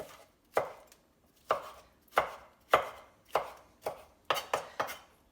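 A knife chops through tomato on a cutting board in the kitchen, seven to eight crisp, close strikes at a steady, unhurried pace, with a quick double tap near the end. No voices are heard.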